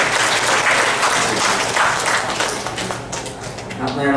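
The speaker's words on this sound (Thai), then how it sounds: "ก็ขอเสียงปรบมือให้คุณประนอมอีกครั้งหนึ่ง" A conference audience at a hedge fund industry event claps for a speaker, a loud, full round of applause from many people that holds steady, then starts to taper off toward the end.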